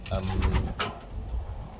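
A racing pigeon coos softly in a loft, low murmuring calls over a steady background rumble, close and brief.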